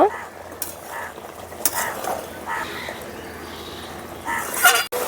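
Chicken legs cooking down in a spiced gravy in a pan, with a soft steady sizzle under intermittent scraping stirs of a utensil against the pan; no voices.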